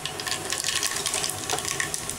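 Mustard seeds frying in plenty of hot oil for Tamil-style tomato rice, a dense, loud crackle with busy popping all through and no voices.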